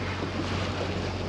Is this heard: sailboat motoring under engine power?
yes